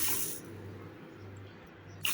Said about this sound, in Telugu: ఏ కప్పుతో అయితే పెసలు తీసుకున్నామో అదే కప్పుతో మూడు కప్పుల నీళ్లు పోసుకొని